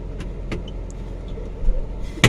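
A Toyota Avanza with a K3-VE engine idling, a low steady rumble close by, overlaid with a few soft clicks and a sharp knock at the end.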